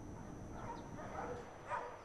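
Dogs at a canine obedience club in Burgos give soft yips and whimpers over a steady, busy background murmur, with the animal sounds faint and somewhat buried.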